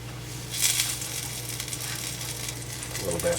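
Steady, close sizzling of flatbread frying in hot oil in a pan, a continuous crackling hiss with a brief louder spatter near the start.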